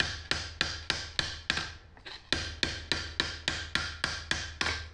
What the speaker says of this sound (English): all I'm doing here is just hammering on the lip right there, which is actually stretching it and making it open up as it stretches